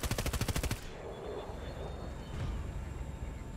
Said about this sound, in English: shoot them with that shitty machine gun